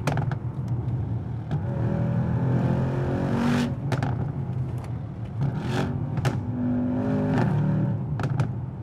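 A Mercedes-AMG S63 V8 engine gives several sharp revs, each rising and falling back. Between the blips it rumbles deep and close, and no voices are heard.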